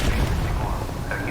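A grenade launcher round explodes in a missile bay in Call of Duty Modern Warfare Remastered, giving a dense, booming blast that fills the whole short moment with heavy rumble.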